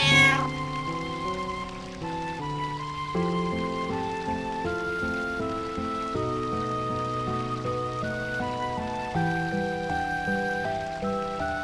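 A cat in Final Fantasy IX meows over gentle in-game background music, with a clear, close meow at the start that stands out above the steady game melody.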